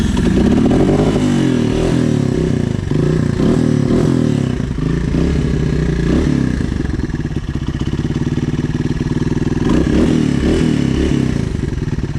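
A motorcycle engine runs loudly and steadily up close, with a rough, clattering mechanical note and occasional scraping, and no voices over it.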